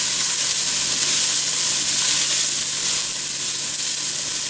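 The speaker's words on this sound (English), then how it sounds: "Just going to, get a little bit of color on these onions." Onions browning in a hot pot for chili with beans give a steady, loud, close sizzle that holds unbroken throughout, with no voices.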